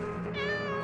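A single drawn-out cat meow in a horror video game, clear and close, rising slightly in pitch before fading.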